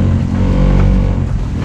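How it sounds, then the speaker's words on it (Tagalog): Boat engine revving at sea on a fishing trip, a loud continuous low motor drone that swells slightly in the middle, heard alone without voices. "Oh, iyak ng ating makina."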